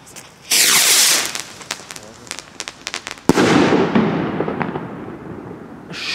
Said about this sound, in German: heute gibt es für euch die Salutraketen von Funke im Test